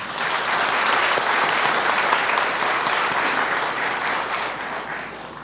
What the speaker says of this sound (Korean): 우리 이분들께 그동안의 노고에 감사의 마음을 담아 박수 한번 보내주셨으면 좋겠습니다.